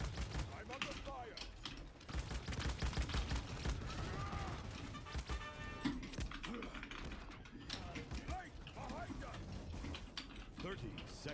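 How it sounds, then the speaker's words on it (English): Gunfire in the video game Paladins, clattering mechanical shots and rattling bursts mixed with game effects, steady and busy throughout, with speech in game audio heard alongside. "I'm under fire."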